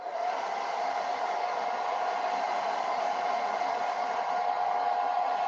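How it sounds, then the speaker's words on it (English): A blow dryer runs steadily to dry a fabric-flower craft sign, a loud, even whooshing hum with a constant tone, continuous and close, with no talking. "I'm going to dry that real fast with the blow dryer."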